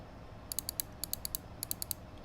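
Right button of a Glorious Model O gaming mouse held close to a lavalier microphone, pressed in three rapid bursts of four crisp, close-up clicks separated by brief pauses in an otherwise quiet room.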